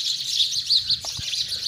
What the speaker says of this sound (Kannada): 3 ಗುಬ್ಬಚ್ಚಿ ಮರಿಗಳು